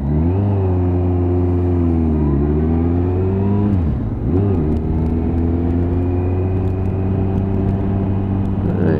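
A Nissan GTR engine drones loud and close from inside the moving car, its pitch rising and easing as the throttle changes, with one brief dip and recovery midway through.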